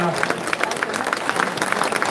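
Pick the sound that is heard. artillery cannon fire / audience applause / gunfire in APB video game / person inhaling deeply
audience applause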